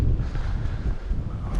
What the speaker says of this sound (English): But today's a little bit windy.